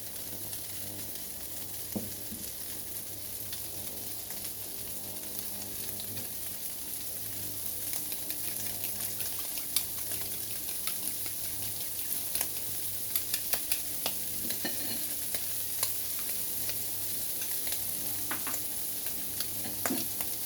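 Shrimp and egg frying in a pan, a steady close sizzle with occasional crackles and faint stirring clicks throughout, no one talking.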